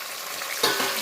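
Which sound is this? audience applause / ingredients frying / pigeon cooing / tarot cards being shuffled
ingredients frying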